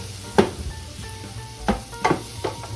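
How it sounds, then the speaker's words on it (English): Banana pieces fry in a pan with a soft steady sizzle, broken by a few scraping stirs and taps of a utensil against the pan. "it is so easy to fry bananas."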